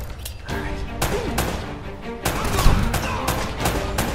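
Video game gunfire from Uncharted: Drake's Fortune comes as repeated sharp shots and bursts in an uneven rhythm, with layered game effects and some voice mixed in.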